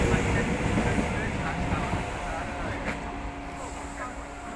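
Riding a passenger train: a steady, loud rumble of the moving carriages fills the whole stretch, with people talking over it.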